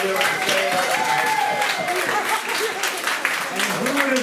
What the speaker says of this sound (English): Another round of applause for Margo.